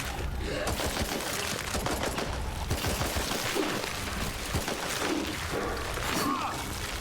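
Gunfire in the video game Chernobylite 2 sounds as a loud, dense, continuous barrage of rapid shots and crashing impacts that fills the whole stretch.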